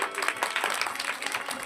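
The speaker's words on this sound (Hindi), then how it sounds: "तो चाहता हूँ यहाँ के स्टाफ के लिए एक बार जोरदार ताली।" Loud, dense applause for the staff from a gathered crowd at a trust event, a brief burst of many hands clapping close and fast, with a voice faintly underneath.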